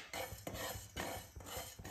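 Fennel seeds being dry-roasted in a pan for a wet turmeric pickle, heard as repeated rhythmic scraping and rattling strokes of a spoon against the pan, close and clear with no talk.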